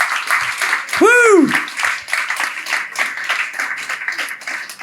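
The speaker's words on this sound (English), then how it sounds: "Can we start out by just giving a big round of applause to the Summit crew for throwing this great party?" A party crowd on a boat cruise claps and cheers, with one loud whooping shout rising over the dense clapping and chatter throughout.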